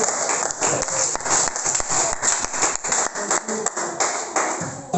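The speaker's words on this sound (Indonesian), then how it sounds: "berikan tepuk tangan buat Ibu" Audience applause after a group presentation at a meeting, dense, fairly loud clapping from a crowd that comes in uneven bursts, with a few voices mixed in.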